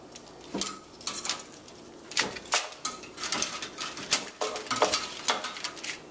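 BBQ ribs being turned over on a metal baking tray, with repeated clattering scrapes and taps of tongs against the pan, close and moderately loud, in irregular bursts with no talk.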